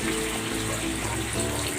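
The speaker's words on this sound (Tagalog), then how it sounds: "Maglalagay ako ng tubig" Water pouring steadily into a pan of pork ribs, a continuous close splashing wash that runs unbroken through the whole moment.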